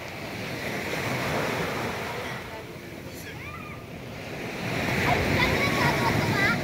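Sea waves wash steadily onto the shore at Lemery beach, with a continuous surf hiss and wind buffeting the microphone. The surf swells louder toward the end.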